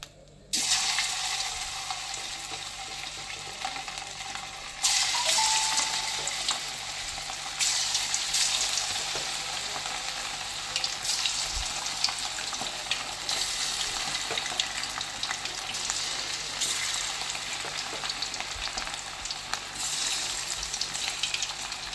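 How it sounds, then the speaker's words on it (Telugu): Chicken pakoda pieces fry in hot oil with a steady, loud hiss and crackle that carries on throughout and swells a little as more pieces go in, close by and with no talking. "ఇప్పుడు ఆయిల్ కూడా వేడెక్కేసింది సో కలుపుకొని ఇంకేసేద్దాం సో ఫస్ట్ ముక్క వేస్తున్నాం"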